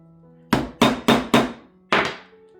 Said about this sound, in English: I'm going to go ahead and punch this out.